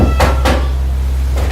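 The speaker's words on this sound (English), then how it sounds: "There's a knock at the door." Two sharp knocks land in quick succession on a door, with a third fainter tap about a second later over a steady low hum.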